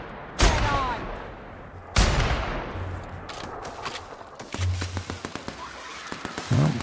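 Sharp gunshots in The Outer Worlds: two loud cracks with long echoing tails, then a scattered flurry of quicker, lighter pops and bursts, with a final louder hit near the end.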